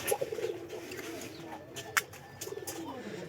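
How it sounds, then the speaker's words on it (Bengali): A breeding pair of pigeons, whose eggs have repeatedly spoiled, makes soft, rolling coos in short bursts near the start and again near the end, with a faint background and no speech. "এই যে এই জোড়া কবুতর"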